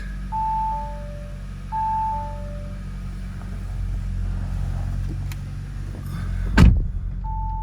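An Audi Q2 sits with repeated two-tone warning chimes sounding inside the cabin, then the engine fires up from the push button with one short, loud start burst and settles into a low idle hum.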